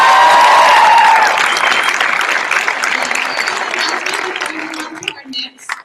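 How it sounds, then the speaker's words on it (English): A large crowd at the opening ceremony of a UCLA immigrant youth conference gives a speaker a loud, sustained round of applause that tapers off as a few voices come through near the end. "can we get a round of applause for Juha?"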